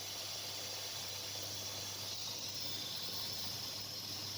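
Ezogelin soup with vermicelli starting to boil in a pot, giving a steady, faint broadband hiss and soft bubbling that continues evenly throughout.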